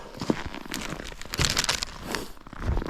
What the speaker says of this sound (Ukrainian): Зараз кину пакет.